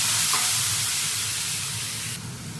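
Pork trotters hit hot oil in a wok already holding bird's-eye chilies, minced garlic and chili pieces, giving a steady, close broadband sizzle that fades slightly toward the end, with no voices.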